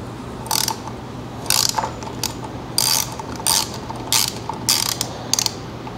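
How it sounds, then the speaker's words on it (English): A ratchet loosening T45 Torx stop bolts on a BMW R1200RTW motorcycle wheel, giving close, crisp clicking bursts in a steady back-and-forth rhythm, about nine strokes, with no speech. "Before the axle will slide out, we have to remove these stop bolts on both sides."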